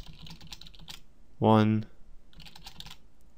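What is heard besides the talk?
typing on a computer keyboard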